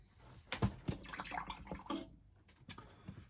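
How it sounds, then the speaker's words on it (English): A paintbrush is swished and rinsed in a pot of water while painting and weathering a miniature figure, giving faint, close splashy drips and swirls in a quiet room. "Rinse off my brush."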